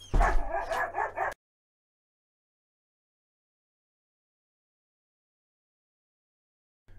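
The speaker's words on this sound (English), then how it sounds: "hang on, we have really loud dog incoming." A chocolate Labrador barks and yips in a short burst of about a second, loud and close, followed by long silence.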